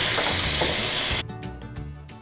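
Ground meat for Tanzanian samosa filling sizzles loudly in a hot pan, the dense frying hiss dropping suddenly to softer crackles as the meat is broken up and stirred.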